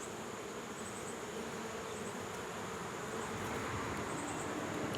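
Honey bees buzz around an open hive being prepared for cold weather, a steady, dense, fairly quiet hum from many insects close by with no talking.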